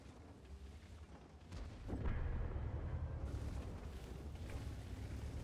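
Tank cannon fire in World of Tanks booms faintly at a distance, rolling into a low rumbling roar that lingers amid dense battlefield noise.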